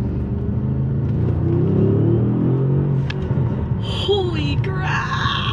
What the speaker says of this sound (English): This car sounds so good when you actually rev it up.